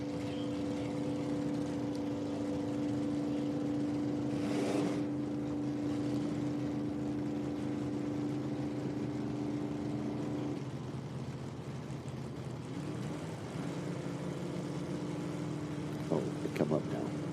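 Drag racing cars at an IHRA Outlaw Nitro Series event, including stock automatic Camaro and Oldsmobile classes, roar as a loud, steady engine drone that shifts partway through, with an announcer talking over it.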